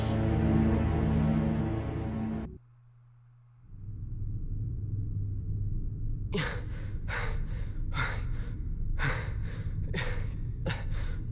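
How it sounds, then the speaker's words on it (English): A character pants in the Kingdom Hearts video game, after a rumbling music passage cuts out briefly. A run of about seven quick, breathy gasps follows, fairly loud and alone over a low background drone. "What's he panting for?"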